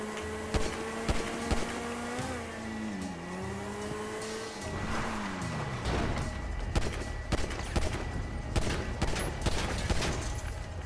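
Rapid gunfire bursts in GTA 5 during a grenade launcher versus cars job, sharp repeated shots crackling over a steady car engine drone, with loud clustered volleys through the second half.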